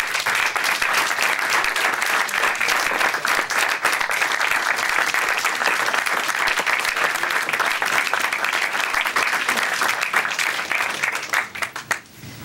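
A room full of people applauds to honor standing alumni at a business school fund presentation, steady dense clapping that carries on for about twelve seconds before thinning out at the very end.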